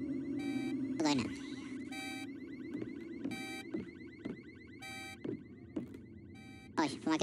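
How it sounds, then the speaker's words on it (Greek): An alarm in the horror video game Visage blares in repeated pulsing electronic bursts, loud and steady throughout, with a person speaking over it. "Και okay, συναγερμός κάτι παίζει."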